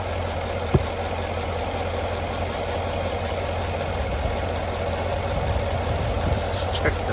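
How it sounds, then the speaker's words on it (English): A 2024 GMC Yukon Denali with its 6.2 L V8 idling, a quiet, steady low rumble with even hum throughout and a single faint tap early on. "let you hear the engine"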